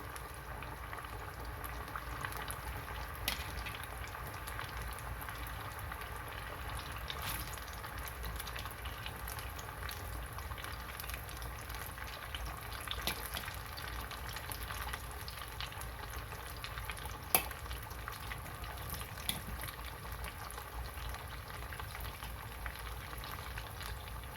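Yams with onions frying in hot oil for crisp fries, a steady, dense sizzle and bubbling that runs evenly throughout with occasional small pops and crackles, close and continuous with no talking.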